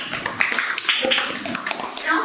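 Students in a geometry class give a short burst of scattered clapping, a handful of sharp hand claps close by with a teacher's voice around them.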